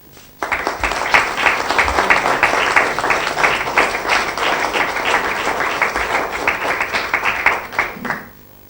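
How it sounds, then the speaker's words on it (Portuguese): Warm audience applause at a municipal anniversary ceremony for Alcanena in 2017: dense, sustained clapping from a large crowd, loud and continuous for several seconds before tapering off at the end. "aqui vai o nosso reconhecimento e a gratidão materializado num caloroso aplauso, para o qual peço uma salva de palmas"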